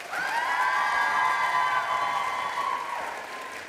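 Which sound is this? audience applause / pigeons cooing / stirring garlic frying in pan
audience applause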